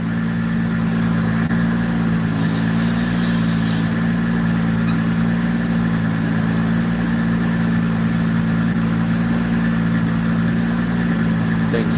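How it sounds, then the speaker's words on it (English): A turbocharged car engine on a dyno holds a loud, steady low drone with a strong humming tone, close and continuous with no voices. "Sounds so good on the dyno."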